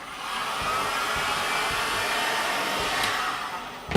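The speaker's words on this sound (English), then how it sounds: "First we're going to curve it, and we're going to do it exactly the same way as we did before with the heat gun." Heat gun blowing steadily at close range to soften and curve a foam panel for a BB-8 droid head build, a continuous airy roar with a few faint knocks and a small bump at the end.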